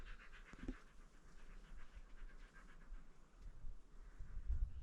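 A dog pants near the microphone at an outdoor rock pictograph site, giving faint, steady breathing over low wind and handling rumble, with no talking.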